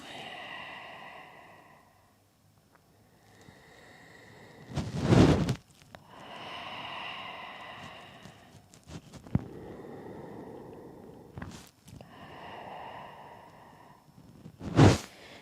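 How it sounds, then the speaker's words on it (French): Slow, deep breaths during a pilates class, several long inhales and exhales spaced across the stretch with a few loud gusty bursts, close and alone. "Prenez 3 respirations."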